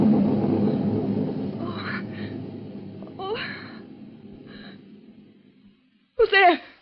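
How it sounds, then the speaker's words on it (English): Deep thunder rumbles through a radio drama scene from the old-time series Suspense, rolling loudly at first and slowly fading over several seconds, with faint breathy vocal sounds along the way and a sudden voiced outburst at the end. "It was only thunder."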